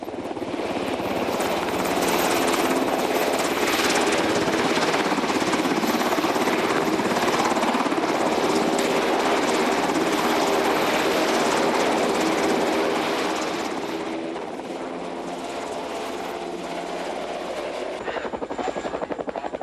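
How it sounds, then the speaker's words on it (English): A UH-60 Black Hawk military troop-carrying helicopter flies nearby, its steady loud rotor thump and turbine roar continuous throughout, easing slightly toward the end. "The UH-60 Black Hawk is the basic troop carrier."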